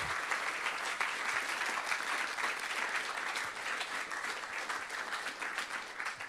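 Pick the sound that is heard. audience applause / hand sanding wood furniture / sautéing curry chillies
audience applause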